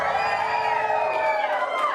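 A crowd at a live stage show cheers and whoops loudly for the "shark swimmers" group, with many high voices shouting together in one sustained, close burst.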